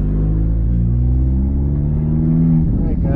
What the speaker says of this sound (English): We're gonna now go for a quick test drive and see if we can feel a little bit of a difference from this.